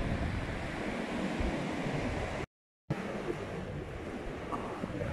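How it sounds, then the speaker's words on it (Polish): Sea waves rolling onto the beach at Hook of Holland, a steady broadband wash of surf mixed with wind noise, with a brief dropout midway. "Zobaczcie jakie ładne fale."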